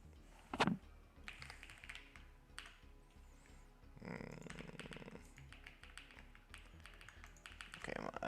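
Clicks and taps from a new computer keyboard come in scattered bursts, close and moderately loud, mixed with a person talking and some background movement.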